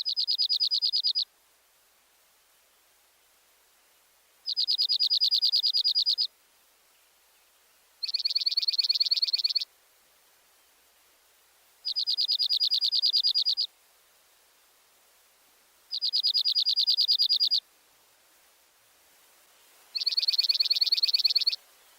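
Bell-like trill of a dark-eyed junco, a rapid, sweet musical song repeated six times in clear bursts of about a second and a half with quiet gaps between, close and alone.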